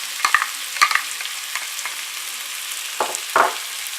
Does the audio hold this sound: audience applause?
no